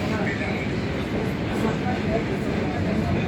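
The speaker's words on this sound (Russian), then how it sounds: "Едем на электричке." Electric suburban train riding toward Kislovodsk, a steady broadband rumble and rattle of the carriage that runs continuously at fairly constant loudness throughout.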